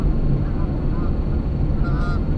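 Geese honk faintly in the distance over a heavy, rumbling background noise, with a couple of calls standing out.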